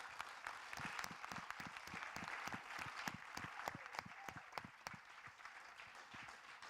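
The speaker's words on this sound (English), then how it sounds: "let's applaud them." An audience at a student presentation session gives a presenting group sustained applause, with steady, even handclaps heard at a moderate distance and no talking.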